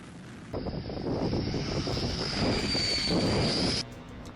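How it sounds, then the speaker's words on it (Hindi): Israeli attack helicopters fly over the Israel–Lebanon border, making a steady, loud engine and rotor roar mixed with wind buffeting. The roar holds for about three seconds with no voices. "इजराइल के लड़ाकू हेलीकॉप्टर भी हिजबुल्लाह लड़ाकों के ठिकानों को बर्बाद कर रहे हैं।"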